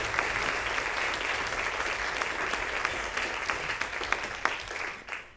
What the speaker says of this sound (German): Ein Applaus für unsere Band.